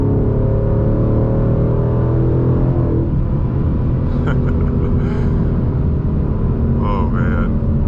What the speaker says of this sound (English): I want to do some downshifts and see if we can do a little acceleration over here